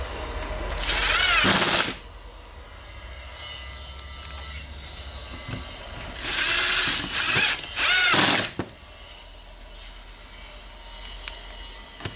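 A power drill runs in a few loud bursts while tightening screws on the motor housing of a Makita BJV180 jigsaw under restoration, with one short run, then two closely spaced runs and quiet pauses between.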